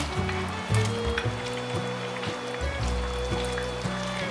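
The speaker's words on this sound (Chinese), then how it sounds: "现在把秋葵放进来" Okra pieces drop into a pan of simmering pumpkin and tofu, with a steady close sizzle and bubbling and a soft clatter as they land, alone without talk.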